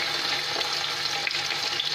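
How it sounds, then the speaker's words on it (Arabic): Chicken pieces fry in melted ghee with a dense, continuous crackling sizzle, close and fairly loud, steady from start to finish without any talk. "رايح ندير طرف تاع الدجاج باش يتقلى"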